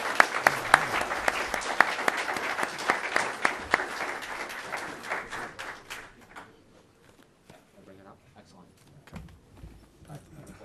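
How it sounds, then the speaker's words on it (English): Dense audience applause for a panel of speakers at a conference, strong and steady for several seconds, then fading into sparse individual claps and room shuffling. "let's give the panelists a round of applause."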